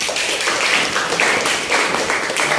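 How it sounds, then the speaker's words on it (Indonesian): Classroom applause from students, a steady patter of many hands clapping for a couple of seconds while a teacher speaks over it. "Tepuk tangan."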